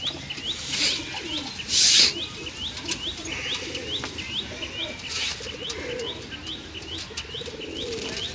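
Pigeons kept for sale make repeated soft chirps and coos close by, with two loud bursts of wing flapping early on and low rustling underneath, no talking.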